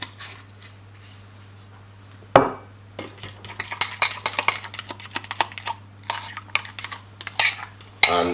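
Spoon scraping and clinking in a bowl as chilli butter paste is loosened with a little olive oil, a sharp tap near the start, then busy irregular stirring scrapes and clatters, close and fairly loud over a steady low hum.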